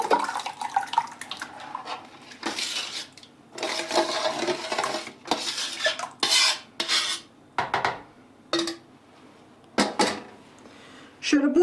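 Large, heavy metal basin, about 7–8 kilos, handled in a home kitchen: repeated clanks, scrapes and knocks in irregular bursts close by, with clattering like pots and cutlery between brief pauses.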